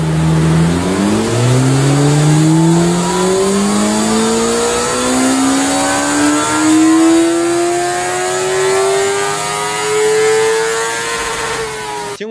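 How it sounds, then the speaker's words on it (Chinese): A CFMOTO 500SR motorcycle engine revs steadily upward on a dynamometer, its pitch climbing smoothly through a long sustained pull with loud, continuous drone and no talk. "下面咱们把它推上马力机啊，一起来看它的马力曲线怎么样"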